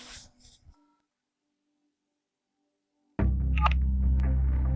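A mobile phone calls back: a brief tone sequence, then silence, then a loud line tone that cuts in abruptly and holds steady to the end.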